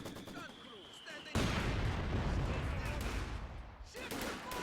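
Mortar impacts and gunfire from battling infantry squads in Company of Heroes 2 rumble as a dense, loud wash of explosions and shots. It swells abruptly after a quieter opening and keeps going, with a voice talking over the battle.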